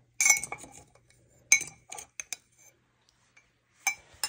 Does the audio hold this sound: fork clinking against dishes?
yes